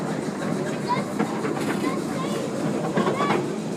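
A miniature ride-on train runs along its track with rolling clatter and rhythmic clicks, close and continuous, while people talk over it.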